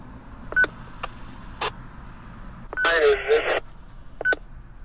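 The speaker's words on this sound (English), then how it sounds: "It just did the courtesy tones" Courtesy tones from a Wouxun KG-916 GMRS radio, a series of short electronic beeps followed by a longer warbling tone burst and a final pair of beeps over a steady hiss.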